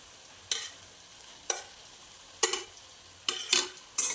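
Roasted eggplant is stirred in a pan for spicy bharit with green chillies: quiet, evenly spaced spoon scrapes and clinks about once a second, over a faint background sizzle.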